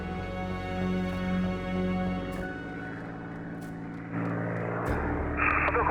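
Spitfire aircraft engine droning steadily with strong harmonic tones, shifting pitch and building louder toward the end, with no speech over it.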